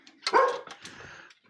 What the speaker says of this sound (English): It's our studio dog.